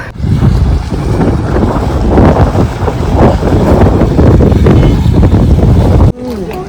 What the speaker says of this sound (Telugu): చల్ల చల్ల గాలి అప్పుడప్పుడు వస్తుంది